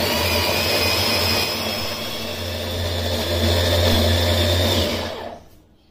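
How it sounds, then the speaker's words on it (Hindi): An electric chopper grinds fried onion and cashew into a paste for Mughlai chicken changezi, a loud steady motor whir running for about five seconds before it cuts off and fades out. "अब इसे चॉपर में निकाल लेना है ताकि इसका अच्छा सा पेस्ट तैयार कर सके"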